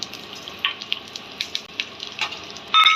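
Ingredients for curry leaf powder fry in a pan with a light, crackling sizzle and scattered pops, close up, ending in a brief louder scrape or rustle.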